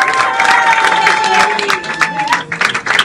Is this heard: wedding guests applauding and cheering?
yes